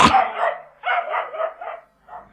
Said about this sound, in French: le petit chien Toto aboie en montrant les dents